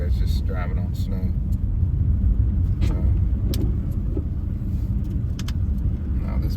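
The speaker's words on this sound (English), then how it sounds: "It's just driving on snow." A car driving on a snow-covered road during the first snowfall between Fairmont and Clarksburg gives a steady low rumble of tires and engine inside the cabin, with faint ticks and clicks on top and some talk underneath.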